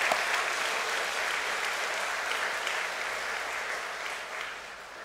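Church congregation applauding together, a broad, steady wash of clapping that holds evenly and fades slightly toward the end, with no voices on top.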